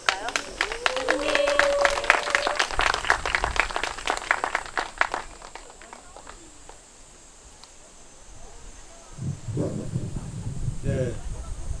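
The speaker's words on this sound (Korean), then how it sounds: "우리 뜨거운 박수로 모셔볼까요?" Warm outdoor applause from an evening concert crowd at Gongsanseong fortress greets a professor, dense claps for several seconds under a talking voice, then fading away to quiet before speech resumes.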